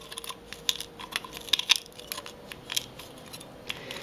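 Scissors or a blade cutting open a cheap eBay puzzle package, with soft crisp snips and crinkling clustered in a few quick bursts, close and fairly quiet.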